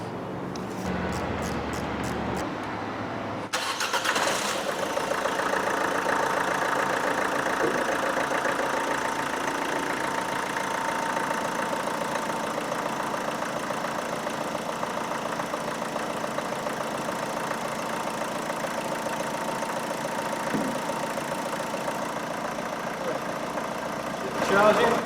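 A Vauxhall Astra 1.7 CDTI diesel engine cranks briefly, catches and settles into a steady, close idle with a faint diesel knock that continues unchanged to the end.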